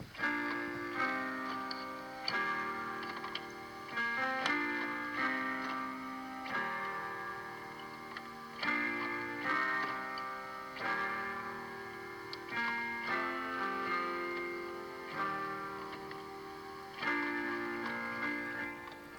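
Piano chord ideas captured as a rough phone voice memo: sustained chords change every second or two in a steady, looping pattern, a little muffled with a faint hiss of room noise beneath.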